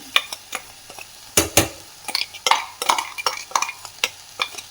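A spoon stirs ground masala into an instant fenugreek-leaf sambar in a pot, giving a run of scraping, clattering strokes with light sizzling, close and fairly loud, with no voices.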